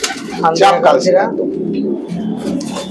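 A pair of Andhra Kalshira tournament pigeons coo in soft throaty pulses close by, partly overlapped by someone speaking.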